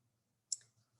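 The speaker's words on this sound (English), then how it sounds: "Let's cut off again about 4 inches." Jewelry wire for a lariat necklace is snipped with cutters, giving a single sharp, quiet click in an otherwise silent moment.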